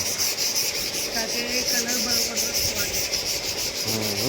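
Sandpaper rubs back and forth over a heavy machine's surface to prepare it for paint, making a continuous close, loud scratchy rasp with a steady rhythm while a voice speaks faintly underneath.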